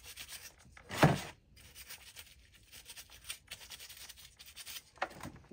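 Quiet, irregular rasping and rubbing of sandpaper on copper pipe during oil heater maintenance, with a louder scratchy burst near the start and another near the end.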